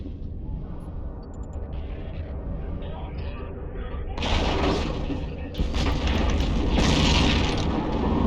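Weapon salvos and explosions in the space game EVE Online: a low rumbling bed building into heavy booming bursts with bright crackling impacts, loud and sustained in the second half, with faint talk underneath.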